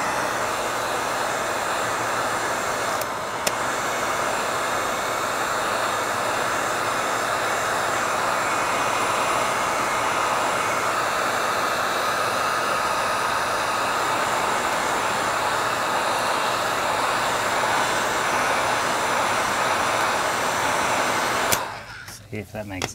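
A heat tool blows a steady, loud, even rush of air for about twenty seconds as it warms the front bumper cover of a 2017-2023 Cadillac XT5, then it cuts off abruptly near the end.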